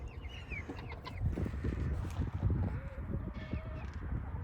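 Older hens resting in the shade under a chicken coop cluck softly and intermittently over a low outdoor rumble, with a few higher chirps from other birds in the background.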